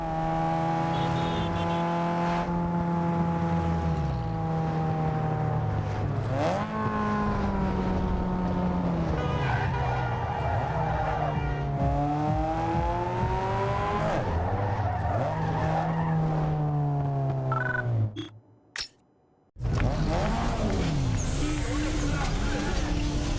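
Race cars roar through a Need for Speed Underground 2 street race in Bayview, engines climbing and shifting through gears with tire skids, loud and continuous, cutting out briefly near the end before resuming.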